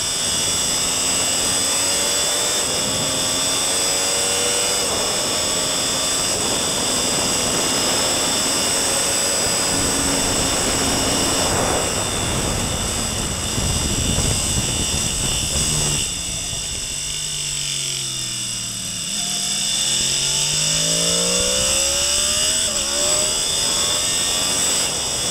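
A motorcycle on the Magny-Cours race track revs hard and accelerates continuously, its loud engine whine rising and shifting pitch through gear changes with steady wind roar, close and alone.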